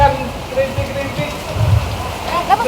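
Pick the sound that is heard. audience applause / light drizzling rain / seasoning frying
light drizzling rain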